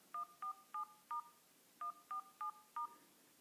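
Eight touch-tone keypad beeps dialing 1, 4, 7 and star, each a short dual-tone burst, in two evenly spaced groups of four, clear and close with no talk.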